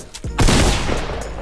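Gunfire in the Fortnite video game, a sharp report followed by a dense, loud burst of rapid shots lasting about a second.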